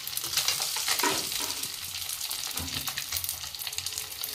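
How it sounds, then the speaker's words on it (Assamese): Garlic and spices fry in hot oil with a steady, close crackling sizzle that continues unbroken, no voices over it. "এতিয়া আমি তেলতে অলপ নহৰু ভাজি লৈছোঁ।"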